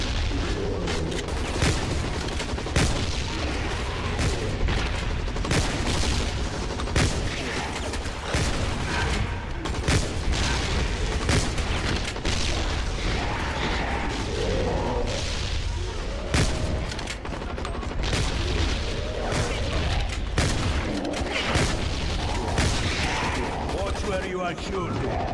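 Sustained gunfire and booming impacts under continuous dense noise, steady and loud throughout with frequent sharp transient shots and heavier thuds, no quiet breaks.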